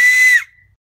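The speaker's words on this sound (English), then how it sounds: "he demonstrated his carrot whistle" A single short, shrill whistle blown on a hollowed carrot, a loud near tone lasting under half a second before cutting off into silence.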